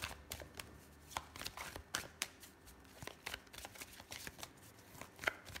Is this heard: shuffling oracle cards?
yes